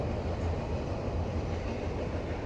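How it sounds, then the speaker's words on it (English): A train rumbles past near a Kubota dealership, a steady, loud low-pitched roar of rail cars with a faint clickety-clack and no talk over it. "There's a train going by over there."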